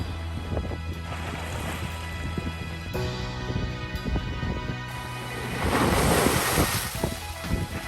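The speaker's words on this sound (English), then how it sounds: "The rocks make for great crashing wave sounds" Waves breaking against a jagged rocky shelf at Pink Beach, Bonaire, a continuous close surf wash that swells into a louder crash, with wind buffeting the microphone.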